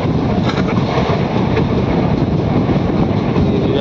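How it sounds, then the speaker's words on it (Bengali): A train rolls beneath an overbridge cut into a hill, with a steady, dense rumble and roar throughout, a loud and close mix of wheel and carriage noise and wind buffeting. "ওভার ব্রিজের নিচে নিয়ে ট্রেন যাচ্ছে আমাদের"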